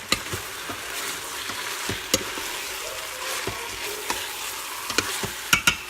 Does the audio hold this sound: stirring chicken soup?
yes